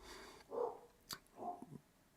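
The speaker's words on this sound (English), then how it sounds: "Excuse the dog barking in the background." A dog barks a couple of times in the background, faint and distant, with short muffled bursts and no talk over them.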